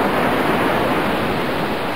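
Stormy wind sweeping over the open sea, a dense steady roar of rushing air and surf that stays loud and unbroken throughout, with no voices.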